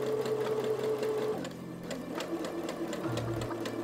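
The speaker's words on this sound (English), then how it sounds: "as I sew, I curl the fabric as I go to guide it into that roll" A sewing machine stitching a rolled hem on fabric, a fast steady mechanical hum with rhythmic needle ticks, close and continuous, dropping slightly in pitch midway as the speed changes.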